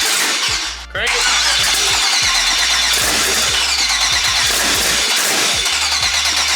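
An LS-swapped New Edge Mustang engine cranks and fires on its first start, a loud, rough, uneven running roar with repeated low pulses, after a brief dip at the start of the clip.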